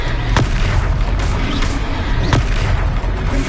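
Spells are cast in Hogwarts Legacy combat: loud booming magical impacts and sharp cracks burst over a dense, constant roar of battle effects.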